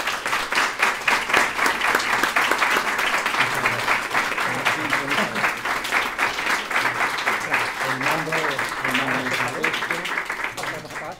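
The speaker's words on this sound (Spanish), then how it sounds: "Te vamos a recibir con un aplauso." A live audience breaks into sustained applause to welcome a speaker at a talk, steady dense clapping for about eleven seconds with some voices mixed in underneath.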